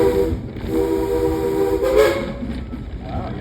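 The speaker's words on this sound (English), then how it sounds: "give us a couple more toots on that whistle" A train whistle sounds in a couple of sustained tonal toots over the steady rumble of rolling railroad cars, heard from on board the train, fairly loud with no talk.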